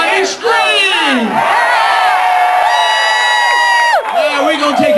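A large crowd at a health care reform rally in Seattle screams and cheers loudly, a sustained close wall of overlapping shouts and whoops rising and falling over several seconds.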